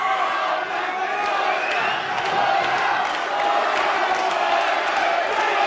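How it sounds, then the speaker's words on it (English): A boxing crowd cheers and roars on its feet at a live fight in Brunswick, Victoria, a dense, sustained wall of shouting and whooping that fills the whole stretch under commentary. "The crowd is on their feet."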